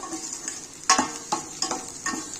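Onion, garlic and green chilli stirred in a hot pan as they fry: a soft sizzle runs throughout, broken by several distinct scraping strokes of the spoon at an irregular pace, close and fairly quiet.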